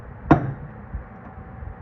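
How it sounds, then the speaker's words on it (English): A single sharp metallic strike of a hammer on a pry bar or chisel rings out during a pickup truck fuel pump job, followed by a faint duller knock, with quiet background otherwise. "And then you just want to use the hammer again."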